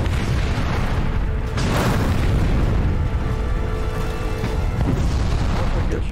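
Continuous heavy artillery shelling during a tank battle in the 1973 Arab-Israeli war, a dense, loud rumble of booming explosions with several sharper blasts standing out, and no talk over it.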